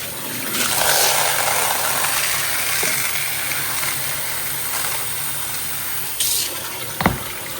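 Tap water runs steadily into a sink or vessel to soak chana dal at home, a continuous broadband splash with a brief clatter near the end.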